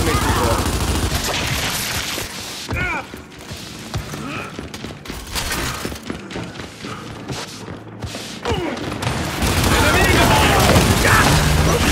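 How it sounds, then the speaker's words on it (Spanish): Heavy gunfire from Gears 5 multiplayer combat aimed at the player, with dense overlapping shots and booms throughout, loud and near, mixed with game effects and voices speaking over it. "Realmente agradecería que dejaras de dispararme"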